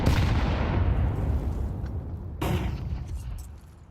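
Stacked grenades go off in a Counter-Strike esports match on the Mirage map: a heavy boom at the start rumbles and fades, then a second blast follows and slowly decays.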